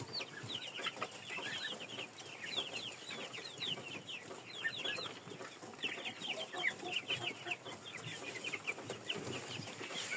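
A flock of young chickens, mostly roosters, cluck and squawk continuously nearby, many overlapping calls forming a busy, restless chorus.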